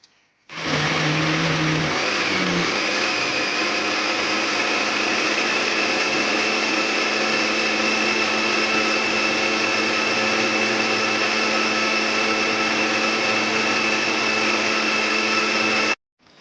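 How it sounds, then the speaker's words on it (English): Kitchen blender whirring as it blends watermelon and pineapple with a little water into juice; loud, steady motor whine starting abruptly, running continuously for about fifteen seconds, then cutting off. "now I'm going to blend the juice"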